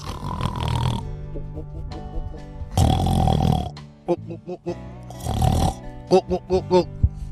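A voice imitates snoring with three long, rasping, gurgling inhales that rise and fall like a heavy sleeper's breathing. Short speech fragments and grunting bursts come between them.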